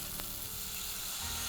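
Tamarind water poured into a hot pan of sautéed ingredients, giving a steady, loud, hissing sizzle that continues unbroken, with no talk over it.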